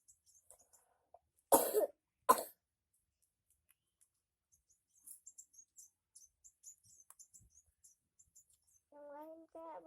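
A child with a cough coughs twice in quick succession during a massage therapy session, short sharp bursts in an otherwise quiet room with faint background noises.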